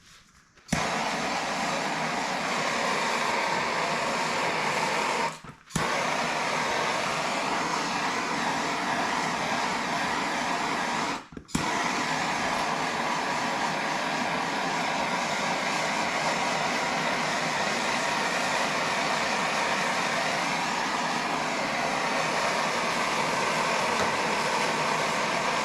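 A MAP gas torch burning with a steady, loud broadband roar that continues for a long stretch, cut off briefly twice by short pauses.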